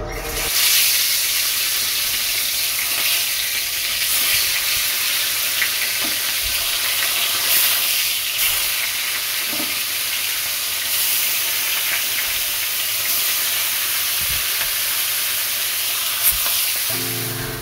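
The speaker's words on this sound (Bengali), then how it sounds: "তো মাছটা এখন ভাজা বসিয়ে দেই।" Fresh pond fish frying in a pan gives a steady, loud sizzle and hiss that carries on evenly throughout, with occasional small clinks and stirring noises, and no talking.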